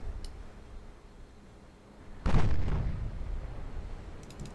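An 8-inch naval gun fires in a naval warfare video game, one loud booming blast about halfway through followed by a rumbling tail, set against quiet ambient noise.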